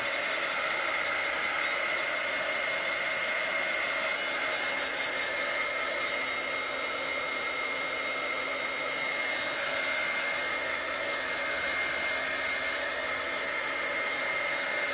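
A crafting heat tool blows hot air to dry a painted Bible journaling page, a steady, close whooshing hiss that holds constant throughout with no talk.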